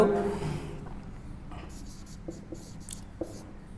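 Chalk or marker strokes on a board during a physics optics lesson, faint scratching with a few sharp taps, following brief quiet talk at the start.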